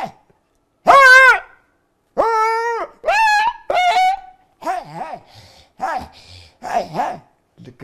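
A man vocally imitates an old dog barking, with a series of hoarse, drawn-out bark sounds in uneven bursts followed by rougher, wavering grumbling calls, all close and loud.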